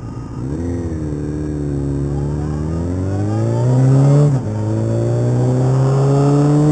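A motorcycle engine drones past on a road during a bike night, its pitch rising steadily as it nears and then shifting as it goes by, loud and close with no talking.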